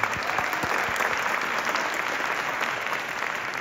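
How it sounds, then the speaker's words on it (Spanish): An audience at a Mexican folkloric ballet event bursts into loud, dense applause, many hands clapping steadily and close for several seconds. "un aplauso para todos ustedes"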